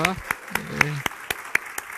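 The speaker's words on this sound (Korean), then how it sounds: "우리 박수 한번 크게 축복해 주십시오" Sharp, evenly spaced claps ring out at a church service honoring a bride, several distinct hand strikes in a quick rhythm mixed with a speaking voice.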